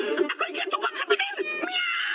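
A cat meowing in a radio drama, performed by a voice imitating a cat with a quick run of overlapping, nasal meows over a steady backdrop.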